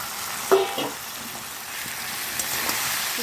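Chicken pieces sizzle and crackle in hot oil in a pan while being stirred for chicken rezala, with a steady fry hiss and a few sharper scraping knocks, close and alone.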